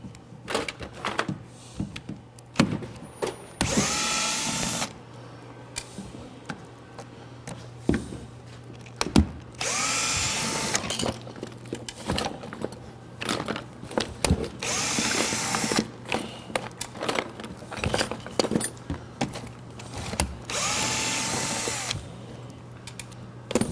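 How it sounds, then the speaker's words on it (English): A power driver spins Torx screws out of an electric-vehicle component case in several short whirring bursts, separated by clicks, clatter and quieter handling, with a low steady hum underneath. "We're going to get some Torx and see if we can get this case off."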